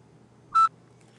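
A single short electronic beep from a barcode scanner reading an item, clear and close, over a faint low background hum.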